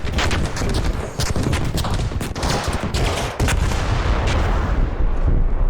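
The Queen machine in ARC Raiders blows up in a dense, loud barrage of overlapping explosive booms and rapid gunfire-like bursts, with deep rumbling impacts throughout the short stretch.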